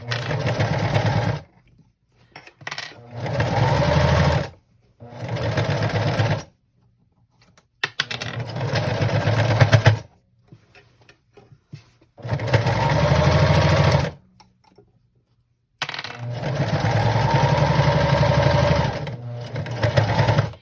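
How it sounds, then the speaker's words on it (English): A sewing machine stitches a corner seam with a 3/4 inch seam allowance on a fabric hamper, in several fast, steady bursts of whirring, separated by short pauses, close and loud. "I'm back at the sewing machine"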